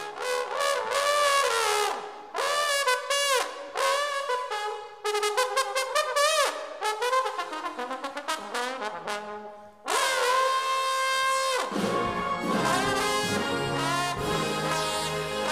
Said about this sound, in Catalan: i el trombó sona així.